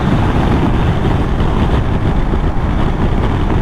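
Riding a Triumph Tiger Sport 660 motorcycle brings loud, constant wind buffeting across the microphone, a dense roaring rush with no breaks and no speech.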